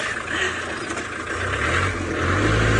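A safari vehicle's engine hums steadily at close range as it drives and pulls up to park on a sunset game drive, with a slight rise in revs toward the end.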